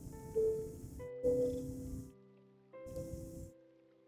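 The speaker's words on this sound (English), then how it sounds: "Can you hear my cat purring?" A purring cat sits close to the microphone, its soft rumbling purr rising and falling in three separate bursts with brief quiet gaps between, alongside a steady faint tonal background hum.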